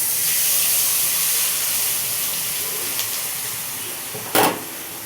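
Water poured into hot oil with black cumin, turmeric, salt and Kashmiri chili: a steady loud hiss and sizzle fills the pan, easing slightly, with a brief sharper splash burst near the end and no talking.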